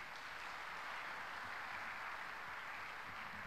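An audience claps for the organizing committee at the 30th-anniversary celebration of VETA, producing a steady, dense wash of applause that holds evenly throughout with no voices.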